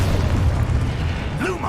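Spell blasts from a Wizarding World video game erupt in a quick burst of booming pops over a dense, rumbling backdrop, with a brief voice line on top.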